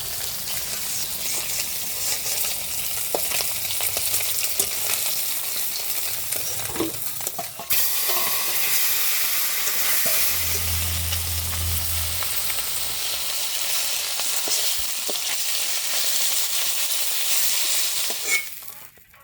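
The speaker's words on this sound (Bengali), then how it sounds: "মাছগুলো একটু ভালো করে ভাজবো" Fish fry in hot oil in a pan, a dense continuous sizzle with occasional spatters and utensil clinks, loud and close throughout before trailing off at the end.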